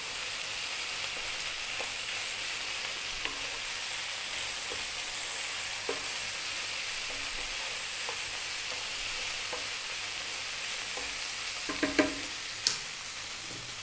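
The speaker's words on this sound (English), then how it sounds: "Just give this a little mix around." Curry powder being stirred in a hot frying pan for chicken potato curry, a steady sizzle with soft scraping strokes of the spoon and a couple of sharper clinks near the end, no talking.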